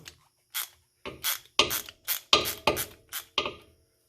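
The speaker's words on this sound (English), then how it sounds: "With undoing that 10mm bolt all the way, you're going to want to" A hand ratchet works a 10mm bolt on the rear brake of a Miata, giving about nine sharp separate clicking bursts in an uneven rhythm, loud and close with silence between strokes.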